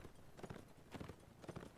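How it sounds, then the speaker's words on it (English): Horse hooves clip-clopping in a 12th-century medieval strategy game as a lame horse is ridden, with steady groups of hoof strikes repeating at a moderate pace, close and fairly quiet. "VMP, that is in fact a horse that you are riding"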